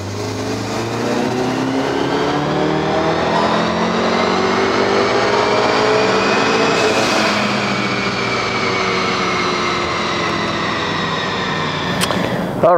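A Mk7 Golf R fitted with a Garrett turbo pulls hard on a dyno, engine note rising steadily through a long loud sweep before a brief turbo whoosh and cut at the end.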